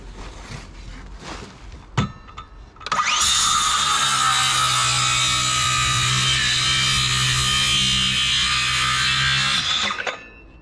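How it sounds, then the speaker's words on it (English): DeWalt Powerstack battery circular saw cutting through timber: after a few light handling knocks, the blade spins up and holds a loud, steady whining cut for about seven seconds, then winds down. "The second test, the circular saw. Okay, so I'm gonna cut some timber now."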